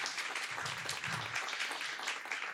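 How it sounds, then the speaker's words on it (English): An audience claps for conference panelists, giving dense, moderately faint applause that stays even the whole time, with a brief low murmur partway through. "let's give a big round of applause to our panelists, Jonathon Glus and Tiffany Beres"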